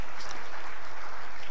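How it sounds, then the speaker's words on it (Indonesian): An audience at a stand-up comedy show applauds with an even, continuous wash of clapping that holds at steady loudness throughout. "tepuk tangan buat istri saya."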